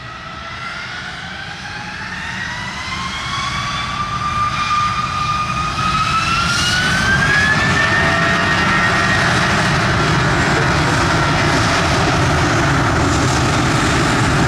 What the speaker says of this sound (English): Cleared for takeoff runway 25.